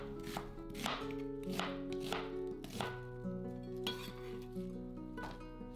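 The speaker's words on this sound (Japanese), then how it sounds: "玉ねぎは1センチ幅のくし形に切ります。" A kitchen knife slices an onion into wedges on a cutting board, giving a series of crisp, irregular chops and taps close up in a quiet kitchen, with no talking.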